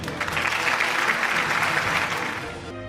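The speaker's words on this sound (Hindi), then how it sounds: "भरपूर तालियां होनी चाहिए" Audience applause at a news network's annual award show in Lahoor, a dense steady clapping from a large crowd swelling for about two and a half seconds before fading out.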